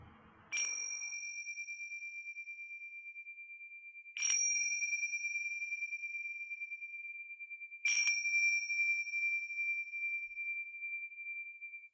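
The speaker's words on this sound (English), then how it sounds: "listen for when you can no longer hear the sound of the bell" A meditation bell is struck three times, about four seconds apart; each clear, bright ring sustains and slowly fades in an otherwise silent room.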